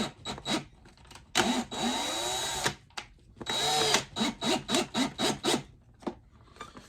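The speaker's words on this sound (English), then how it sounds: "Now I do the first 2 screws, which will hold it in." A power drill whirs in two long runs and then in a quick series of short bursts while it drives screws into a wooden cigar box guitar body, close and fairly loud.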